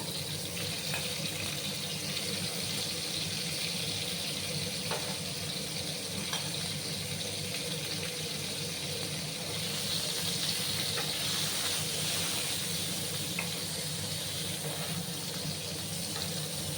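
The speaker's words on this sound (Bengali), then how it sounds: "এবার আমি পটলগুলোকে ভালো করে ভেজে নেব 5 মিনিটের মতো সময় নিয়ে" Pointed gourd (potol) fries in hot mustard oil in a pan, giving a steady, close, continuous sizzling hiss with no pauses and no talking.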